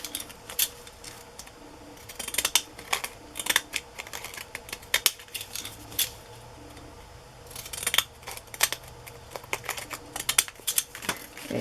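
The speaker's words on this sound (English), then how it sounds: "I've had these scissors for many years." Fiskars scissors cutting paper at a craft table, a run of crisp, close snips and slicing crunches in irregular bursts, with brief pauses between cuts and no talking.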